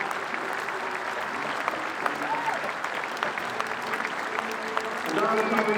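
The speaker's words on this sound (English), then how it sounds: "Ladies and gentlemen, one time your applause for Yvonne Frank." A crowd at a women's club field hockey tournament gives continuous applause for a departing player, clapping steadily throughout while a voice speaks faintly over it near the end.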